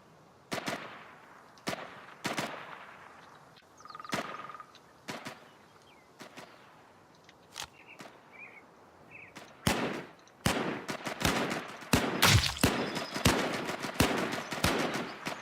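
Video game gunfire in a multiplayer last-man-standing match: sharp single shots scattered at first, then denser rapid bursts toward the end, moderately loud with no talk.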